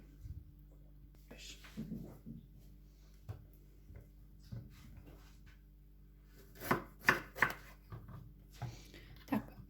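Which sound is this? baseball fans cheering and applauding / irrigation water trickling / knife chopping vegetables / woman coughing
knife chopping vegetables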